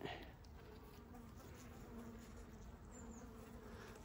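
Honeybees at a hive hum in a steady, dense drone during a varroa mite treatment, close and continuous with no talk.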